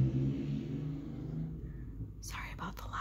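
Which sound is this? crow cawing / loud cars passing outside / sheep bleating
loud cars passing outside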